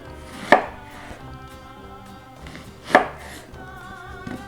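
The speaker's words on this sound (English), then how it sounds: "Then you can slice off those rings super easy." A knife slicing raw onion into rings on a cutting board: two sharp, distinct cuts a couple of seconds apart, close and clear, over a soft tonal background.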